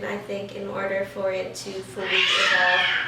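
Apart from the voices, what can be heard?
cat meowing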